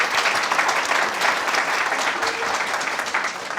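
An audience at a centennial kickoff and panel discussion breaks into steady applause, a dense, even patter of many hands clapping that continues without a break.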